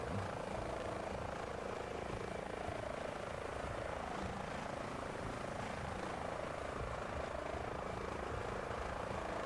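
Airbus H145 helicopter in the MSFS 2024 game, its engine and rotor making a steady, dense broadband whine and rumble that holds evenly throughout, with no talk over it.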